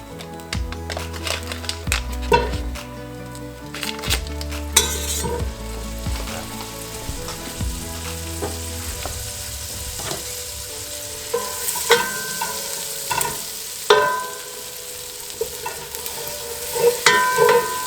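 Butter sizzles in a pot where chicken was browned, a crackling hiss broken by clanks and scrapes of stirring, loud and close with no talk.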